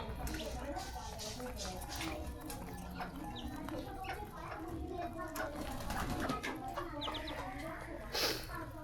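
Pigeons kept at home, about five pairs, give soft cooing and clucking calls that come and go against a busy household background, with other fowl-like calls and faint voices mixed in.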